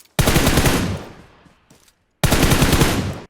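Loud automatic gunfire from PUBG Mobile plays in two dense bursts, the first trailing off into a faint echoing tail, then a short gap of silence before the second burst starts abruptly.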